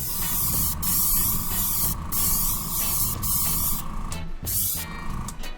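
Silver spray paint hisses from an aerosol can onto a prop blaster in a series of steady passes, close and loud, with brief pauses between bursts.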